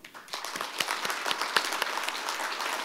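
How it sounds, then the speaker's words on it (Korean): Audience applause at a business culture forum, a crowd clapping steadily and fairly close, with individual claps standing out from a continuous rattle for about three seconds. "다시 한번 박수 한번 부탁드리겠습니다"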